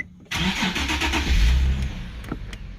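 Nissan 370Z engine rumbling low and steady as the car pulls away on the clutch, a sudden onset after a quiet start, close and continuous with a slight swell in the middle.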